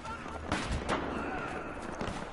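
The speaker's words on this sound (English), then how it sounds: "you've got a sniper shooting at me" Sniper fire in a shooter video game, a few sharp distant cracks at irregular spacing over a low, steady background hum.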